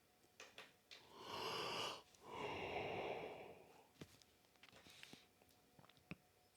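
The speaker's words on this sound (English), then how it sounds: "So much yawning." Two long, breathy yawns follow one another near and alone, each swelling and fading over about two seconds, with soft breaths and small clicks afterward.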